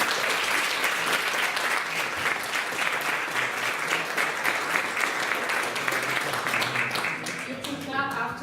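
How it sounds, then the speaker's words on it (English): A university audience applauds a guest speaker at a games lecture, with dense, steady clapping from many hands throughout that thins out and tapers off in the final second. "Round of applause for our guest speaker, Sonia."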